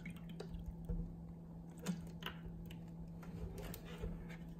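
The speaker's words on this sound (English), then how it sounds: "Let's pour some water in." Svyatoy Istochnik artesian water from Russia poured into a container gives quiet, intermittent drips and small splashes over a low steady electrical hum, close by, with no talking.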